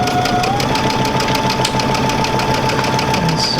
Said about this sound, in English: It's just going to sew right on the line